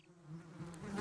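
Cartoon wasps buzz inside a nest, a steady insect drone that swells louder toward the end, with no talking over it.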